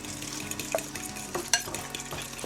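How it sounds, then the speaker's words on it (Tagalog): Food frying in a pan at home, a steady sizzle with soft stirring and utensil clinks, close and alone without talk. "You just let it fry."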